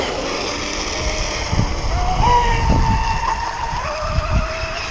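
A small motor on a ZippKits R4 outrigger RC boat whines and rises in pitch as it revs up hard at full throttle, buzzing steadily over water noise and wind at moderate distance.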